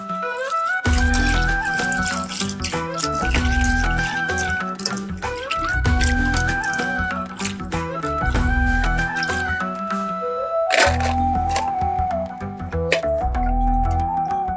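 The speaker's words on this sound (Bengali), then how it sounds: "এবার শিম ও আলুটাকে ভালো করে ধুয়ে নেব।" Beans and potatoes rinsed under a running kitchen tap, with water splashing and dripping close by, steady with brief pauses, accompanied by a repeating melodic music track.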